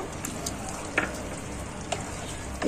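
Paneer cubes frying with prawns in a pan, a soft steady sizzle broken by a few sharp spatula taps and scrapes as it is stirred.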